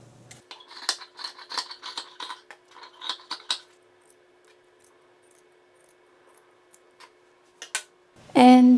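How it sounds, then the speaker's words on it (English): Fabric scissors snip through the seam allowance of sewn fabric straps in a run of quick, close cuts, then pause; a few faint clicks follow and a louder brief noise closes. "now I will cut my seam allowance"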